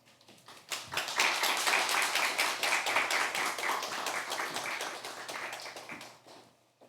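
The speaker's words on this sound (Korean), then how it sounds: "welcome her with a round of applause." A church audience at a Wednesday worship service gives a warm round of applause to welcome a speaker, with dense, sustained clapping that swells quickly, holds steady for several seconds and then tapers off.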